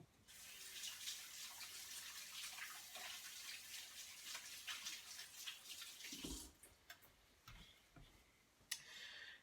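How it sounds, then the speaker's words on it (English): Tap water runs steadily into a sink during handwashing, a faint, continuous hiss with light splashing and occasional small clicks. It stops near the end and is followed by a few brief knocks. "I'm going to wash my hands."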